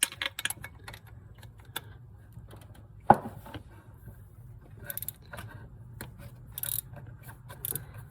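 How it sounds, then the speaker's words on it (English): A 10mm wrench working the bolts that hold the fan to the fan pulley on a Pathfinder, producing faint metallic clicks and ratcheting ticks with one sharper clank partway through. "You want to use a 10mm wrench"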